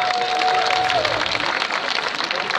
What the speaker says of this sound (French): il faut applaudir Laurent Gbagbo